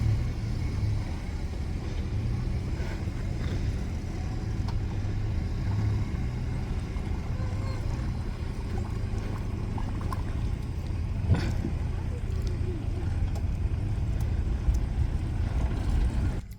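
A car engine runs at a steady low rumble while towing a homemade 212cc tricycle, a continuous drone throughout with faint road noise and no clear changes in pace.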